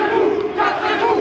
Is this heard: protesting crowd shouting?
yes